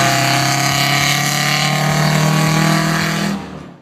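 A Detroit Diesel 8V92 engine roars loudly and steadily, a thick continuous drone with strong low harmonics, holding at high output before cutting off abruptly near the end.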